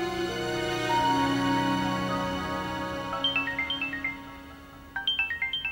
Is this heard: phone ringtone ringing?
yes